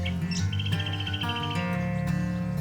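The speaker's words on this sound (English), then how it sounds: "the distant call of a bird somewhere beyond" Bird chirps and short tweets ring out over a low steady drone along a river at Rainbow Beach, Australia, with a quick series of repeated calls.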